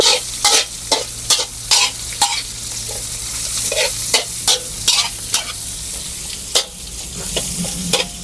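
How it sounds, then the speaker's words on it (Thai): Oil sizzles steadily in a hot pan as peppercorns and aromatics are stir-fried, while a utensil scrapes and stirs in repeated quick strokes, close and loud. "ผัดให้หอม"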